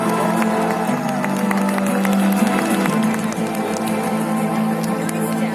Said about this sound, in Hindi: मैम एक बार जोरदार तालियां